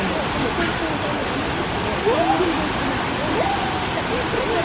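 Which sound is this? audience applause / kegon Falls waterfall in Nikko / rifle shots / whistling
kegon Falls waterfall in Nikko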